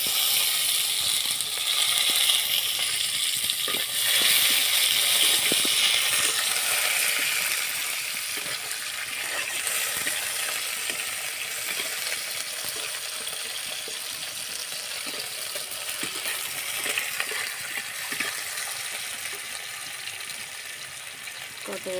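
Onion sizzles in a pan of melted sugar with garam masala and cumin seeds, a steady bright frying hiss with small crackles that eases slightly after the first few seconds and continues without talk.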